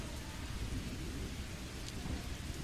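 Rain pours down steadily in a thunderstorm, a dense hiss of drops with low rumbling underneath, continuous and fairly loud without any voices.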